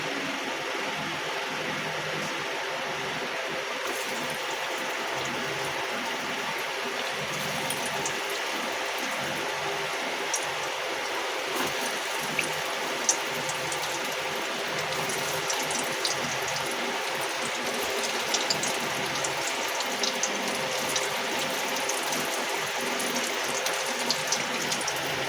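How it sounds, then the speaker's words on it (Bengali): Raw banana koftas fry in hot oil, giving a steady, dense hiss and crackle with scattered tiny pops, close and continuous without talk. "তেলটা দেখো ভালোভাবে গরম হয়ে গেছে। এবার আমি ওর মধ্যে দিয়ে দেবো কোপ্তাগুলো।"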